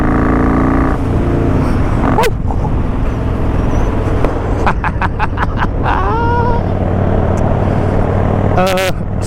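Motorcycle nicknamed the Joker ridden hard, a loud continuous engine roar with surging revs and brief shifts between gears, heard up close from the bike itself, with no talking.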